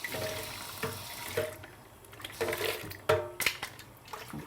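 Water poured into a cooking pot while a boiled plantain and spicy chicken meal is prepared, a running, splashing stream with a few clinks and knocks of kitchenware, close and fairly loud.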